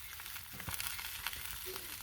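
Kilo of sausages frying in a pan at a budget camp by a Hilux, a soft steady sizzle with faint crackles throughout, close and moderately quiet, with a brief tonal scrape near the end.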